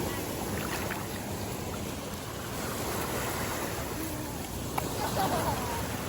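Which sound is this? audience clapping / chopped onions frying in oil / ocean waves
ocean waves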